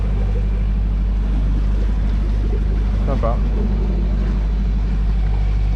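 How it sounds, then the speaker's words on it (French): A sailboat's Beta Marine inboard engine runs at sea, a loud steady low drone with hull and wave noise, and a voice speaks briefly over it. "on a remis le moteur pour la dernière heure"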